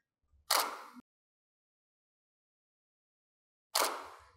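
A DSLR camera shutter fires twice during a studio flash portrait shoot, set at f8, 1/200 s and ISO 100 with a hair light behind the subject. Each release is a sharp, close mechanical clack, and the two are separated by about three seconds of silence.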